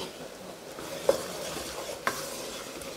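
Coated groundnuts being stirred in a pan, a soft continuous scraping rustle with a faint sizzle and two sharp utensil knocks against the metal.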